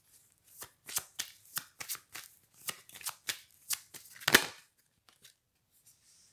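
Tarot cards being shuffled by hand, a run of quick papery riffles and taps in an uneven rhythm, close and fairly soft, ending in a few light slaps.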